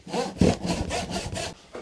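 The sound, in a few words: hand saw cutting large piece of firewood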